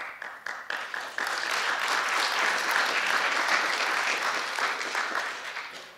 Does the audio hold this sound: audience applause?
yes